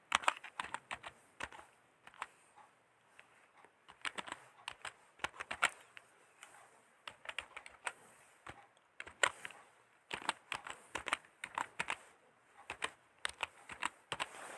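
Keys clatter on a computer keyboard while an email ID is entered into an online Delhi Police Home Guard application form, quick irregular bursts of close, crisp taps separated by short pauses.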